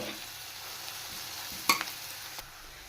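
Chopped green chilies fry in hot oil for sweet corn fried rice, giving a steady close sizzle with a couple of sharp spatula clicks midway.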